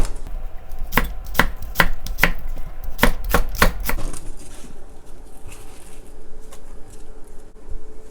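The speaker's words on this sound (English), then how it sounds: "And just give it a rough chop." An onion is roughly chopped with a knife on a board, about a dozen crisp, close strikes in quick bursts that stop halfway, followed by quiet kitchen room tone; no speech.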